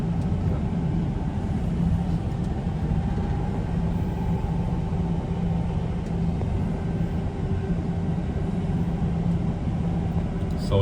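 Claas Jaguar forage harvester travelling on a road at transport speed, a steady low engine drone with constant rumble heard from on board, even and continuous without any talk.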